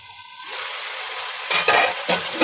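Drumstick (sajna) pieces frying in a pan for a masoor lentil dal, with a steady loud sizzle and a few scraping stirs of a spatula near the end, close up and without speech.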